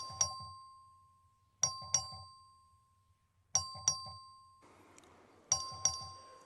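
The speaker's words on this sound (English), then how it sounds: "The clerk will ring the bell." Voting bell in the Texas House chamber, rung by the clerk, chimes in four ding-dong pairs, each bright strike ringing out and decaying before the next, with a faint rustle behind one pair.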